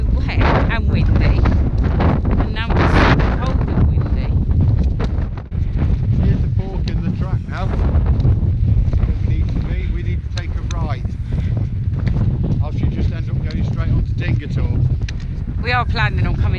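Heavy wind buffeting the microphone on wet, windy moorland at High Willhays, a loud continuous roar with gusty rumbles, and a person talking underneath.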